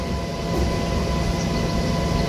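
A MEMU local train running from Hyderabad toward Vijayawada gives a loud, steady, continuous rumble and rushing roar that holds evenly throughout, with no voices.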